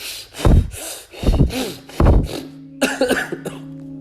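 Several loud, close coughs in quick bursts during a breathing exercise of deep nasal inhales and forceful mouth exhales, with harsh throat-clearing sounds and a short voiced tail near the end.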